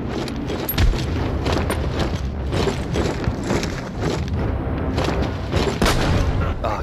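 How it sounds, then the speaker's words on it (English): Grenade blasts and gunfire in The Walking Dead Saints & Sinners 2, a dense run of loud booming thuds and sharp bangs in quick succession, close and heavy, with no talk over them. "Ah, good. Grenades work."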